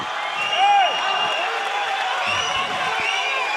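Arena crowd cheers and applauds at a live MMA fight, a steady wash of clapping and shouting held at an even level throughout, with an announcer's voice over it.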